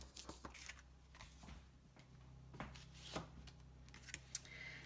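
Scissors cutting out a paper piece for a handmade card, a string of soft, quiet snips and paper rustles close by.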